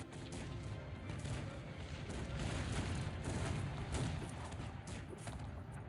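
Massed cannon fire from a large 4v4 battle in the strategy game Cossacks 3, a dense continuous barrage of booms and crashes at moderate loudness with no speech over it.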